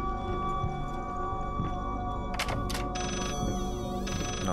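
A telephone rings in the horror video game Layers of Fear, a warbling electronic tone repeating over a dense, humming ambient background.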